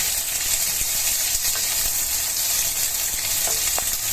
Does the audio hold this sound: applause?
no